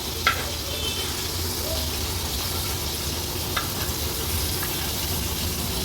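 Tarli fish fry in oil on a flat iron tawa, Agri Koli style, giving a loud, continuous close sizzle with a few sharp clicks as the pieces are turned and pushed aside.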